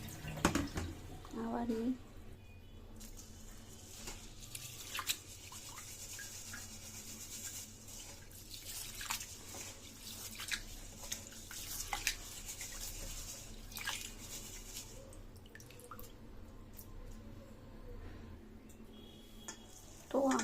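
Rice being washed in a bowl of water gives soft, close sloshes and drips over a quiet background, with a person speaking briefly.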